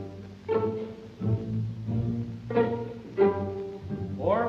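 Orchestral string pizzicato, plucked with the hard tip of the finger, a few separate plucked notes in slow succession, moderately close with short decays.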